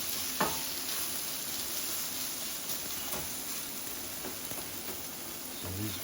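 Onions and peppers sauté in a pan with chicken, giving a steady, fairly quiet sizzle and hiss with a few soft clicks from stirring.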